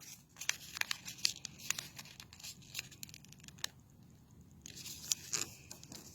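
Origami paper being folded into a box crinkles and crackles in quick, irregular bursts, a brief pause midway before more crisp creasing, close and fairly soft with no talking.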